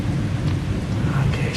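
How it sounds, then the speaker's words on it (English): Heavy rain pours steadily with deep thunder rumbling underneath, a dense, loud, continuous wash of sound with no pauses. "it's really raining hard."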